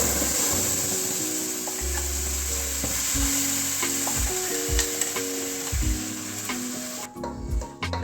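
Red Thai curry paste roasts in a dry pan with no oil, hissing in a steady sizzle broken by scraping and stirring strokes, close and loud with no talking.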